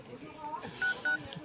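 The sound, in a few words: phone keypad dialing tones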